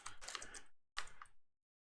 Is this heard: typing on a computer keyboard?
yes